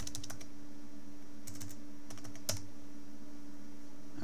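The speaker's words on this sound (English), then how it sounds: "Just type in my password here." Someone types a password on a computer keyboard, quiet close clicks in short bursts separated by pauses, with a faint steady hum underneath.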